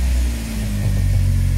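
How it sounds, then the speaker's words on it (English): The engine of a 2016 Oreion Reeper Sport 4x4 idles with a steady low hum and a faint rhythmic throb, a sound likened to an old 1980s Toyota Corolla engine, heard alone. "sounds like a old Toyota Corolla engine"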